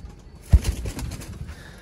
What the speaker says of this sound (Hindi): सियालकोटी 79 वाले कबूतर